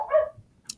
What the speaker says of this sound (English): I got my dogs going nuts up there.